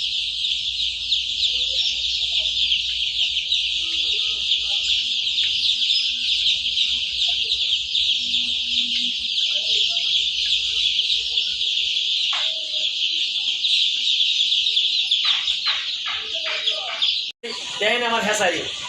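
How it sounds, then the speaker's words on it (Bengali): Dense, continuous high-pitched peeping from a large crowd of tiger-breed chicken chicks at a hatchery, loud and close throughout, with brief clucking and a short burst of other bird calls near the end. "আমাদের কাছে ব্যাপক পরিমাণ টাইগার মুরগির বাচ্চা আছে"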